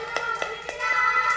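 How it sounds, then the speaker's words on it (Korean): A few sparse hand claps at a church service, close and moderately loud, about four in quick succession over a soft background hum rather than full crowd applause. "수고한 친구들에게 다시 한번 뜨거운 박수."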